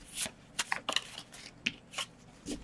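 Tarot cards shuffled by hand during a card reading, a close series of soft riffling flicks and slaps in an irregular rhythm, quiet and without talk.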